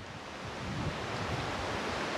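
Ocean waves wash continuously along the Mendocino coast, a broad steady rush of surf with a gentle swell in loudness, mixed with some wind and no voices.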